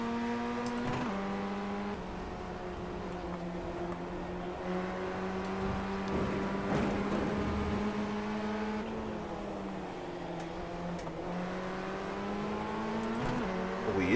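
An FF1600 Formula Ford open-wheel race car engine holds high revs at the start of a race, a steady droning whine that shifts pitch a few times over about fourteen seconds, with no talk.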